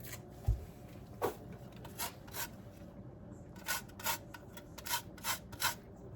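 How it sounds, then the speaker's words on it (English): Food being rubbed against a hand grater in a home kitchen, a series of short, soft rasping strokes at an uneven rhythm, close and fairly quiet. "Let me see if I can use this grater."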